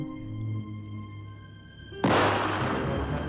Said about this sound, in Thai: เขาก็ได้ยินเสียงปืนไรเฟิล